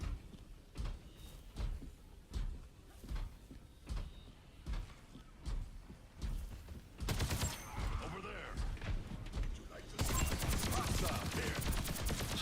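Gunfire in Overwatch 2, a burst of repeated shots rising to a dense, loud volley in the last few seconds, with vertical sharp impacts early on and game noise filling the background.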